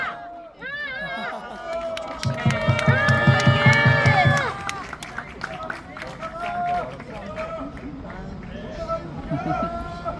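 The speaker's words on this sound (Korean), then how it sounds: "다시 한번 방학지 기획 실장님께 큰 박수 부탁드리겠습니다" Crowd at a public speaking event clapping and cheering loudly after a speech, with whoops and raised voices over dense applause that swells, then thins into chatter and scattered claps.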